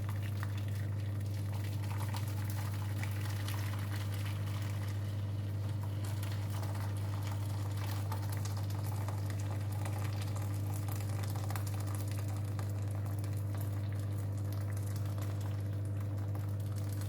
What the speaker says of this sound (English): And into the tray goes the water.